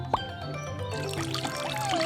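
Water pours and splashes in a short, close trickle, with a brief bright clink near the start and faint tonal sounds.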